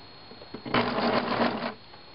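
Sewing machine stitching a liner: a short, close burst of rapid mechanical whirring and clatter lasting about a second, preceded by a few faint clicks and quiet handling.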